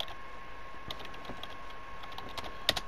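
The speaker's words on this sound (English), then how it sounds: "In fact, we're just going to type up." Quiet keystrokes on a computer keyboard, scattered taps with one sharper click near the end, set against a faint steady hum.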